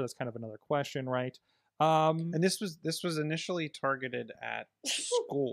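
A single loud, sharp sneeze bursts out at the end, near the microphone, right after someone talks steadily in a podcast studio discussion.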